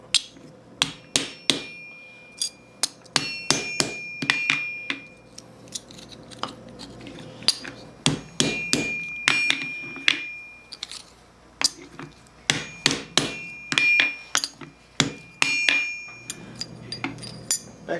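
Steel thumb plate for a Milanese mitten gauntlet of about 1450 being hammered over a stake, sharp metallic blows in irregular bursts and quick runs, close and loud with ringing overtones.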